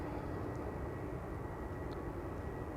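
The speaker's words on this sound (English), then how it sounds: "And that's a 747-400 freighter, 26 years old, first flight July 1998" An Atlas Air Boeing 747-400 freighter, built in 1998, taxis toward the runway at Amsterdam Schiphol, its engines giving a steady, moderately distant drone that stays even throughout.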